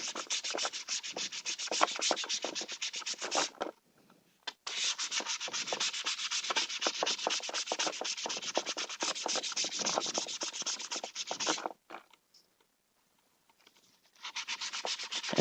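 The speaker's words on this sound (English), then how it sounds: "You want to get that lip sanded off." Hand sanding along the heated edge of a PVC Sintra backplate, a close, steady rapid scratching rasp in long continuous passes, broken by two short pauses and resuming at the end.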